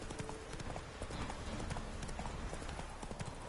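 Horse hooves clip-clop steadily and close in The Witcher 3, a dense run of quick clopping against busy game background noise.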